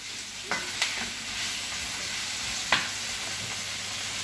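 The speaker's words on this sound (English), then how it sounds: "So what I'll do now is have it sauteing right here." Vegetables sautéing in a pan for Jamaican escovitch fish give a steady, fairly quiet sizzle, broken by a few sharp spoon scrapes and clinks against the pan, with no talking.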